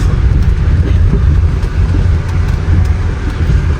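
A Range Rover Evoque engine runs steadily after a misfire repair, giving a loud, close, even low rumble with no talking.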